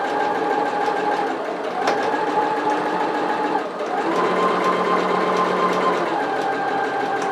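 A sewing machine stitches fabric strips for a retro-style apron, running a loud, continuous mechanical whir close by, with a brief dip in speed partway through before it carries on.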